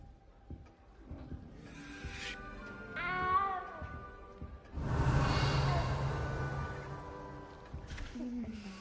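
A cat meowing in Hogwarts Legacy, a couple of plaintive mid-length meows including a rising wavering cry and a short one at the end, set against soft game ambience and a louder swelling noise in the middle.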